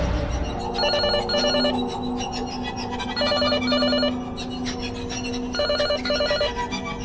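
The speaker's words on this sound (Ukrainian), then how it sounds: "але почула дзвінок домофону" An electronic intercom door buzzer rings in repeated bursts of two, trilling tones against a steady background hum, with brief pauses between each pair.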